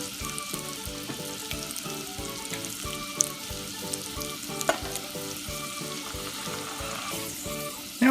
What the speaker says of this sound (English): Now we're just going to cook the carrots with the maple and the butter together